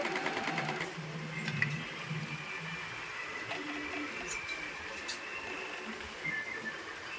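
An Usha Janome sewing machine runs steadily while stitching a zigzag, giving a continuous mechanical whir with rapid needle clatter that holds at an even level throughout, with brief faint clicks over it.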